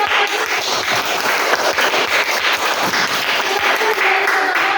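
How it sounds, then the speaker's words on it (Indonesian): A classroom group applauds after the first group's presentation, with dense, lively clapping that carries on steadily for several seconds and some voices mixed in. "Kita beri aplaus"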